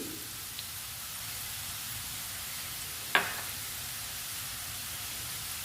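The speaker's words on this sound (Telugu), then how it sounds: "బంగాళదుంప అల్లం పేస్టు ధనియాల పొడి అన్నీ ఫ్రై చేసుకోవాలండి కలిపి" Potatoes fry with ginger paste and coriander powder in hot oil, giving a steady soft sizzle throughout, broken by one brief sharp clink partway through.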